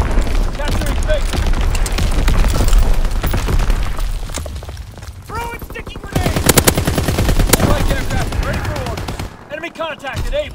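An aircraft's machine guns roar through a strafing run in Call of Duty: WWII. Dense, loud bursts of rapid fire come with booming impacts, and radio-style voices speak over the barrage.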